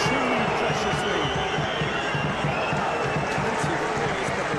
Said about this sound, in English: Plenty of applause, but the referee is not interested.